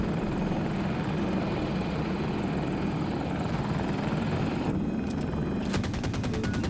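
A Condor tiltrotor aircraft in Battlefield 2042 roars as a constant, dense rotor drone. Sharp bursts of rapid gunfire break in near the end.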